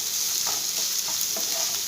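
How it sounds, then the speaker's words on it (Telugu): Ginger garlic paste is stirred into onions frying in a pan, giving a loud, steady sizzle with a few soft scraping stirs over a brief moment, close up and free of speech. "ఈ అల్లం వెల్లుల్లి పేస్ట్ వేసుకొని ఒకసారి అయితే కలిపేసుకుందాం అండి"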